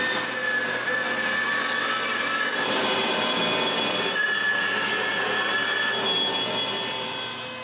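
A saw cuts the four corners off a square walnut block being prepared for turning into a bowl. The cut is a loud, continuous, high-pitched whine and screech with a brief dip partway through, fading slightly at the end.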